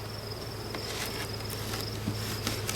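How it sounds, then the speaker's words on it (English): A steady, close buzz rises from the winter cluster of honey bees in an opened hive at a fall check, a constant droning hum with a faint high whine and a few soft taps. "These are our winter bees. That's our winter cluster."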